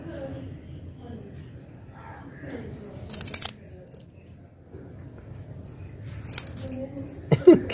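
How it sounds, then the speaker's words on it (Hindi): A cat paws at a bunch of keys in a home setting, and several short metallic jangling bursts ring out over continuous talking. "चाबी से खेल रही है।"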